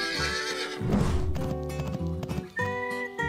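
Within a farm diorama scene, a horse lets out a loud, wavering neigh that dominates the opening, followed by brisk clip-clopping hooves and another whinny, all close and prominent.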